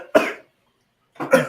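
Two single coughs from a person at a baseball game's seventh-inning stretch, close and loud, separated by nearly a second of silence.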